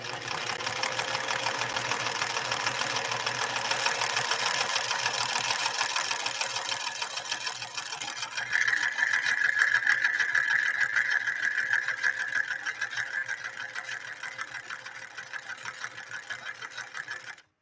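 A White Model 742 Japanese sewing machine stitches a blind hem on satin, making a long, steady, close mechanical whirr with a fast, even stitching rhythm that runs unbroken, with no voices.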